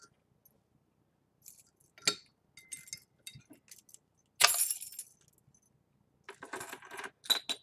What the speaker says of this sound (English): Grab my keys and a quarter because I still like to save my caps.